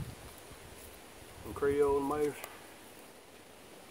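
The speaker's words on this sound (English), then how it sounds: "I apologize for the wind if y'all hearing it." A steady broadband rush of wind blows outdoors, with a brief spoken word partway through.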